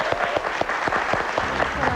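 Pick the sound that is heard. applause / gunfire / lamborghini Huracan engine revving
applause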